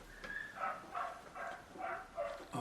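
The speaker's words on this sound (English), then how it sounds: "Sorry Maxine, I know you're a dog lover, but that yapping gets you after a while." Dogs bark and yap in a garden, several sharp repeated barks in a rough rhythm at moderate distance, with no one speaking over them.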